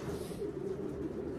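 Racing pigeons from a Utah loft coo softly and steadily, a low continuous murmur held close by throughout.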